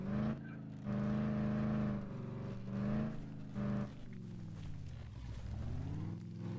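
A car in the zombie survival game Dead Island drives uphill, its engine droning and shifting pitch with surges and a falling, rising whine toward the end, heard alone at moderate level.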